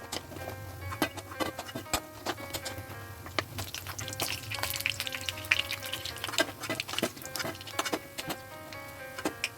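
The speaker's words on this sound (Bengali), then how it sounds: "আমাদের বড়াগুলো ভাজা হয়ে গেছে" Lentil fritters fry in hot oil in a pan, a steady crackling sizzle peppered with sharp pops and ticks that continues throughout without talk.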